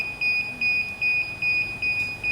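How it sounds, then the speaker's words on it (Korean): Rapid, evenly spaced electronic warning beeps from a DJI Phantom 4 drone remote controller that has not been calibrated repeat on a high pitch, loud and close, with nothing else around them. "켰을 때 띠띠띠 나는 거는 조종기 캘리브레이션이 안 됐을 경우에 대부분 이런 소리가 납니다"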